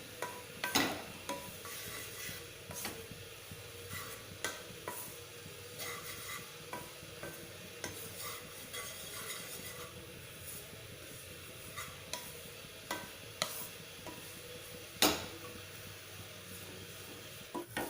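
Bread pieces fry in ghee in a pan, a faint steady sizzle broken by scattered clinks and scrapes of stirring, close by and with no talk.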